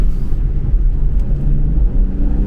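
Loud, steady low rumble of wind buffeting through an open window of a BMW M3 Competition, with road and engine drone underneath, continuous throughout.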